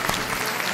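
A group claps together in a quick, dense burst of applause that fills the whole brief moment and is heard close and steady.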